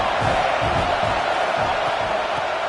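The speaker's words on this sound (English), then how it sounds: "this crowd is turning it up a notch" Loud stadium crowd roaring and cheering at an FSU vs UCF college football game, a steady dense wall of noise swelling as the home team threatens in the red zone.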